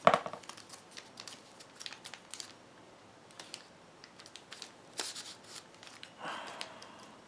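Foil wrapper of a Panini Adrenalyn XL Euro 2020 trading card pack being opened, giving soft, scattered crinkles and rustles with a louder papery burst of crackling near the end, all fairly quiet and close with no talking.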